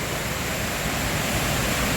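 The Ked Sao Noi waterfall gives off a steady, dense rushing roar of falling water, heard close and continuous with no voices.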